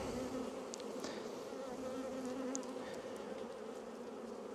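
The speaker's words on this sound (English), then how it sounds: "Very nice young orange bees." Young orange honeybees buzz steadily during a full apiary hive inspection on a very hot day, a dense, continuous close-up drone with a few brief higher whines of individual bees passing near.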